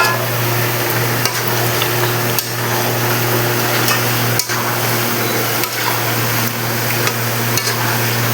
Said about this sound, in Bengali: এখন এর মধ্যে আমি মটনটা দিয়ে দেব।